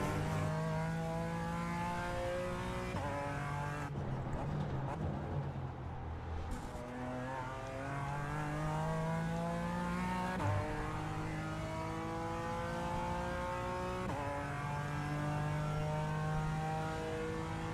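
A race car engine in a rallycross racing simulator, loud and continuous, climbing in pitch as it revs and dropping sharply at each gear shift, repeated several times with no talking over it.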